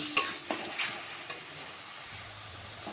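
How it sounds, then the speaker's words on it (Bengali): Vegetables being stirred in a frying pan, with a few sharp spatula scrapes and knocks over a quiet, soft sizzle. "তো চলো এইটাকে নেড়ে চেড়ে নেবো"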